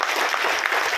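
Dense, steady applause from a seated audience at a large CEO meeting, many hands clapping continuously and loudly throughout with no voices over it.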